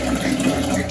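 Water runs from a tap while a filter is washed, a brief, close, steady splashing flow with no speech.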